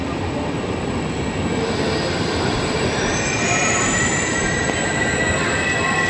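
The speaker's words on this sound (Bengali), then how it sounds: "Double decker train." A Trenitalia double-decker train pulls into Trieste Centrale station, its wheels squealing loudly and steadily against the rails over a continuous close rumble, with no talk.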